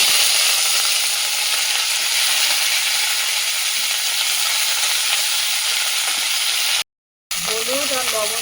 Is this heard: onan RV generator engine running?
no